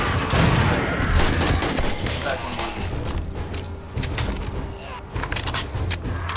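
Dense, rapid gunfire during a horde night in the zombie survival game End Of Dayz Darkness Falls, with shots and thuds layered continuously and loudly throughout.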